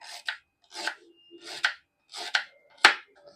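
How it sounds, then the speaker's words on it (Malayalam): A knife chops ginger finely on a board in five crisp, evenly spaced strokes, close and clear, with quiet gaps between. "നമുക്ക് ഇഞ്ചി ഒന്ന് ചെറുതായിട്ട് അരിയാം"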